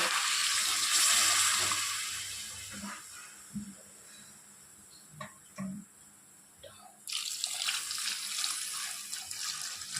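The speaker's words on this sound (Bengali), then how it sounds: "এবার আমি এর মধ্যে দিয়ে দেবো পরিমাণ মতো জল।" Water is poured from a tap or jug into a cooking pot for a simple Bengali dish, a rushing splash at the start and again near the end, with soft kitchen clatter and a faint sizzle between.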